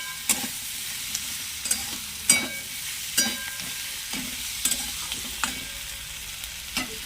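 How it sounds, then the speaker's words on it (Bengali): Chillies, bay leaves and tomato fry in a pan and are stirred. A low sizzle runs throughout, broken by repeated sharp scrapes of the spoon against the pan at a loose, unhurried rhythm. No one speaks. "ভালো করে নেড়ে দিয়েছি"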